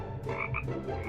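A chorus of frogs croaking close by, dense overlapping calls in a steady, throbbing rhythm with no other sounds.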